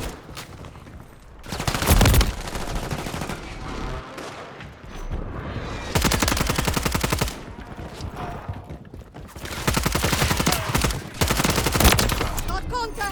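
Gunfire in the video game Call of Duty Modern Warfare 3: sustained bursts of rapid automatic fire and heavy volleys across a noisy battle, with a voice talking at points.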